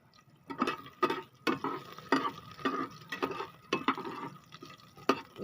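Onion and garlic sautéing in a pan for sinigang, the spatula scraping and stirring in a steady rhythm of close, repeated strokes over a faint sizzle, no voices.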